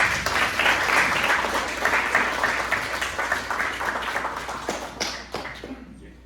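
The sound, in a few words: audience applause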